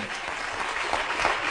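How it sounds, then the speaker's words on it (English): Studio audience applause on a TV talk show, a dense, steady wash of clapping that stays loud and even throughout with no talk over it. "Tony Danza getting cheap applause breaks, Anthony"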